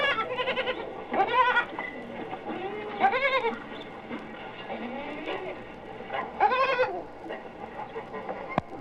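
Several sheep bleat in a college agricultural department, wavering calls coming in separate bursts with pauses between, fairly close and loud against a quiet background.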